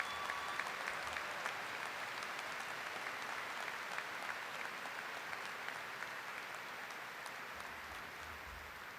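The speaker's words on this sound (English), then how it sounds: "Please join me in one last round of applause for our honorary degree recipient, Ed Rapp." Sustained applause from a commencement ceremony audience, a dense even patter of clapping that continues steadily for several seconds.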